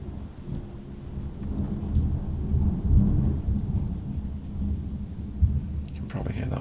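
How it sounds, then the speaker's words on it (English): A thunderstorm rumbles outdoors, with low rolling thunder swelling around the middle and steady rain, ending in a brief sharper crackle; fairly loud and continuous throughout. "And we're back to thunderstorm out here again."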